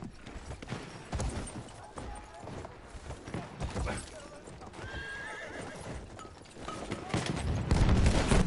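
Horse in the video game Battlefield 1 gallops with clip-clopping hooves and lets out whinnying neighs amid bursts of battlefield gunfire, growing louder toward the end.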